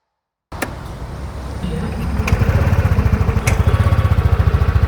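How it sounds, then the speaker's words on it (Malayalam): A 2024 TVS Jupiter 110cc scooter starts with a couple of sharp clicks, then its small engine settles into a quiet, rapidly pulsing idle that grows slightly louder over a few seconds, heard up close with no talk. "ഇപ്പോൾ വണ്ടി സ്റ്റാർട്ട് ചെയ്ത ഒച്ചയാണ്, തീരെ സൗണ്ട് ഇല്ല."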